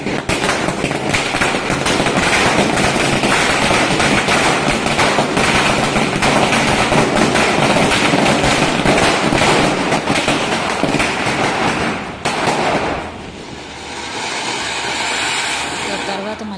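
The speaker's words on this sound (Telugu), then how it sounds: "క్రాకర్స్ అవి కాల్పిస్తున్నాడు అన్నమాట" Firecrackers for Diwali celebrations crackle in a dense, relentless string of rapid bangs at a home, loud and continuous before dropping off abruptly near the end.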